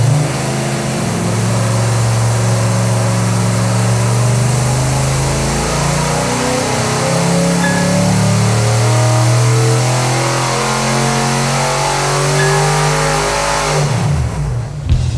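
A big-block hot rod engine on a dyno roars loud and close in a long sustained pull, its deep rumbling note wavering and climbing before cutting off abruptly near the end.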